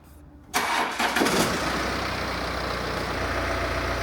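A car engine cranks briefly and catches, then settles into a steady low idle rumble. It is close and clear, with no talk over it.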